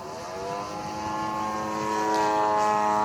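A radio-controlled Cessna Agwagon scale model airplane flies with its throttle eased back, giving a steady propeller engine drone with strong harmonic tones that swells slightly louder toward the end, with no talking.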